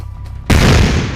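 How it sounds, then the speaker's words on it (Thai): After a moment of quiet, a single sharp, loud gunshot-like blast bursts out and rings on with a rumbling decay. "เมื่อเสียงปืนนัดแรกดังขึ้น"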